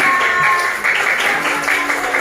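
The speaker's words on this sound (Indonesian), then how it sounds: "Tepuk tangan untuk kelompok wisata." Applause in a classroom, a brief burst of clapping from a group of students, close and fairly loud, ending quickly.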